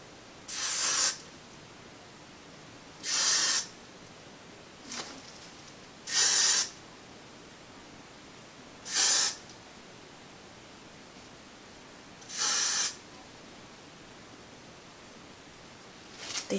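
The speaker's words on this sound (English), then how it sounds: "next I'm gonna take some got to be glue spray and then spray it" Got2b glue spray misted onto a wig hairline, six or so short sharp hissing bursts about two to three seconds apart, close and fairly loud against a quiet room, with no voices.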